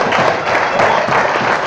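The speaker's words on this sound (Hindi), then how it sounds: "जोरदार ताली से स्वागत करिए।" Audience at a stage event breaking into loud, continuous clapping, a dense burst of applause lasting under two seconds.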